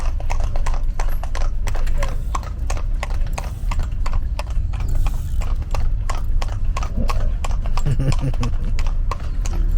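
Steady clip-clop of horse hooves on a hard surface in Soweto township, a brisk regular rhythm continuing throughout with some background noise.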